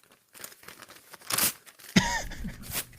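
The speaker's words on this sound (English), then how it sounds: "ripping up everybody's damn mock draft and projections" Paper being torn apart, a few rough ripping and crinkling bursts close up, the loudest near the middle followed by a longer tear with crumpling noise.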